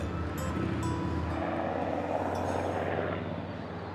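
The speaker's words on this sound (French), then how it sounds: "sous un balai quotidien d'hélicoptères" Helicopters pass low over a dense city beside a military base, a steady broadband rotor and engine drone that holds loud and continuous for the whole stretch, easing slightly at the end.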